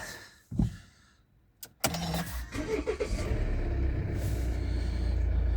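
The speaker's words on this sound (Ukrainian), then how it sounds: "Давайте заведемо автомобіль." A Volvo XC D4 car door thuds, then the engine cranks and catches, settling into a steady low idle that continues to the end.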